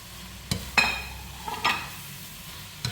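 Bread being added and tossed in a pan with spiced bell peppers, giving a soft low sizzle punctuated by a few sharp clinks and scrapes of utensil against pan.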